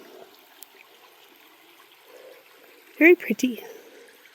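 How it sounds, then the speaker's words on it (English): The Verde River flows in a faint, steady trickle throughout, and a brief spoken remark cuts in partway through. "I guess this is part of the Verde River."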